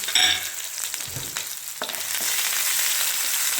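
Chillies and curry leaves frying in hot oil for a mixed vegetable pickle, a bright crackling sizzle with a few scraping stirs near the start, then continuous loud spitting.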